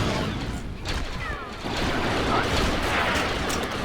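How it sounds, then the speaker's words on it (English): Grenade explosions and scatter-shot blaster fire rattle on in a video game battle, a dense run of booms and shots with a voice talking over the din. "AI is throwing a lot of grenades today."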